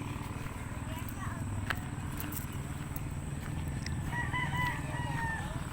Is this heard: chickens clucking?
yes